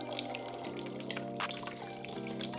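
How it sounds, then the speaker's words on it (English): Coconut water pouring into a blender for a tropical fruit smoothie, a steady, moderately quiet liquid stream with soft splashing throughout. "And then we're going to add our coconut water."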